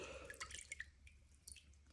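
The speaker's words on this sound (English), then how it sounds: "Drip, drip, drip." Faint water drops fall one by one from a ceramic tile lifted out after soaking, a few sparse, irregular drips close by in an otherwise quiet space.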